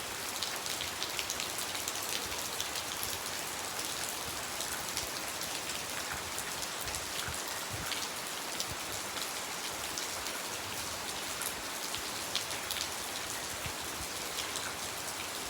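Heavy rain pours down in a dense, constant hiss, steady and close throughout, with no voices or other sounds.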